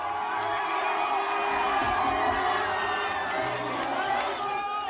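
A crowd at an outdoor concert by the Seine cheers and chatters as Guinean president Alpha Condé arrives, a steady dense roar with whoops throughout.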